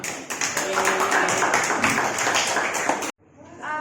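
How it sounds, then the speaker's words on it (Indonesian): High school students clap together in a classroom, a sustained wash of brisk applause mixed with chatter that cuts off suddenly, followed by a brief voice. "Aplaus untuk kita semua."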